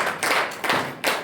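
Audience clapping at an alumni cooperative society event in Kigali: a short burst of applause rising in three waves of dense hand claps, fairly close and loud, with no talk over it.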